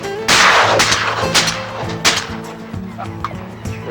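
Shotgun blasts ring out during a turkey hunt, a loud close report at the start followed by several more sharp shots, with turkey gobbling and other outdoor noise around them.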